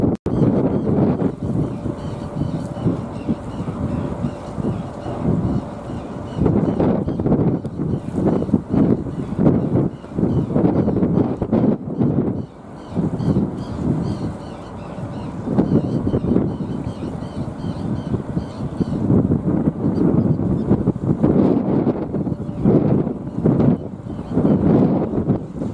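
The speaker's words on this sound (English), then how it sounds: "Quite windy this morning." Gusty wind buffets the microphone in uneven surges at Belfast Docks in the morning, with a low rumble underneath and brief lulls between blasts.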